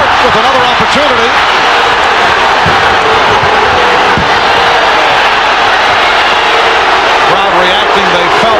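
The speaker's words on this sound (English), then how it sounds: "Crowd reacting." A packed arena crowd at the 1993 NBA Finals in Phoenix roars continuously and loudly, a dense wash of shouting and cheering with broadcast commentary running over it.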